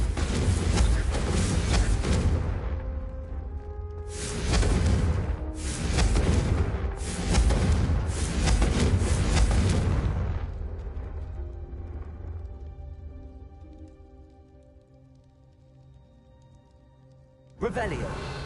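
Booming blasts of the Confringo explosion spell in a Harry Potter video game lesson, several loud bursts in quick succession that then fade into a ringing tail, with a voice speaking around them.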